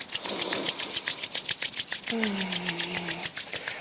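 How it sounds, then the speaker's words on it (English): Palms rubbed briskly together to make heat during a yoga session, a quick rhythmic swishing of many short strokes, close and moderately soft, with a faint hum partway through. "Bring the palms together, create some heat, rub the hands"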